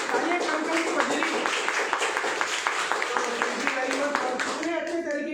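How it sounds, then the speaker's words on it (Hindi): Audience applauding at a business product presentation, with quick, fairly loud claps in a steady patter that thin out and stop near the end. Voices mix in under the clapping. "तो एक बार जोरदार तालियां अवनीश जी के लिए, हमारे रविंदर जी के लिए"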